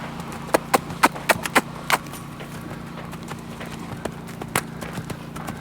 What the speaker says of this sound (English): He's got such a nice little lope there that you could drink a cup of coffee on him.